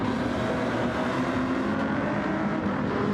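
A Ferrari race car in a racing video game roars down the pit straight, a steady, loud engine drone held at high revs throughout.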